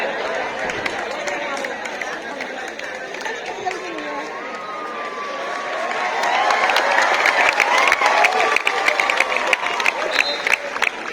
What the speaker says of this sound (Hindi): बच्चे जोरदार तालियां बजाने में अपने टीचर का अभिनंदन करें।